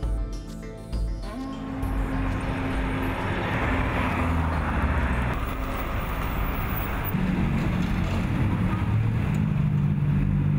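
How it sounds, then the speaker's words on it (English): Old, gas-guzzling American cars, over half a century old, rumble through the crumbling streets of Havana, a steady engine drone that swells and holds loud for several seconds. "gas-guzzling American cars over half a century old, wheezing smoky through the crumbling streets of Havana"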